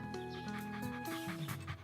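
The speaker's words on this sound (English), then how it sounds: "look at the dog. He's jumping." A cartoon puppy pants and whimpers in quick, close bursts while it jumps about, with a steady musical tone running underneath.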